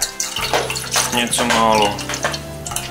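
Grape must is poured into a container of lukewarm water, a splashing, trickling stream that runs for a few seconds under brief speech.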